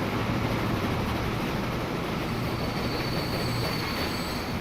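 A big train pulls in within the railway game Transport Fever 2, its wheels squealing and rolling in a dense, continuous rumble that stays steady and fairly loud, with no voices.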